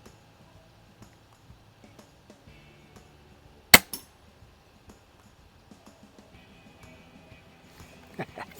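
Winchester 425 air rifle fired at a small round metal spinner target outdoors, one sharp loud crack with a quick follow-up ring, surrounded by faint quiet ambience.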